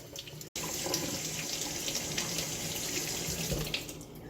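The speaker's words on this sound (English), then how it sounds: "I have to go to a sink and then just rub all of this stuff off" A sink tap runs steadily while eggs from an osmosis experiment are rubbed clean under the water. The hiss of water is constant and close, broken by one brief cutoff near the start, with no talking.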